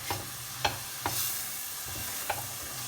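Onion frying with spices for matar paneer, a soft steady sizzle in the pan broken by a few sharp scrapes and clicks of a spoon stirring, quiet and close with no talk.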